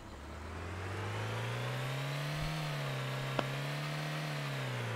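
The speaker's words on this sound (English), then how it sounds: "There's another car." Car engine in the DayZ Mod video game, a steady mid-pitched drone that rises and falls gently as the vehicle drives along, with a brief click partway through.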